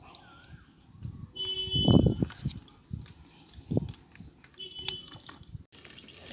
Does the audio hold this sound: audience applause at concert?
no